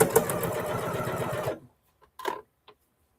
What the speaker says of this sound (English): I'm going to go a tiny bit ahead and do a back stitch then.